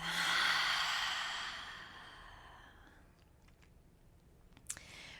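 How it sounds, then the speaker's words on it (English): One long, audible exhale through the mouth at the start of a yoga breathing exercise, loud and close, fading over about three seconds, then quiet with a few faint clicks. "Inhale through your nose. Exhale through the mouth."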